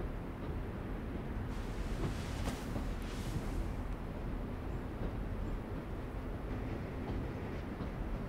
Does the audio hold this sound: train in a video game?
yes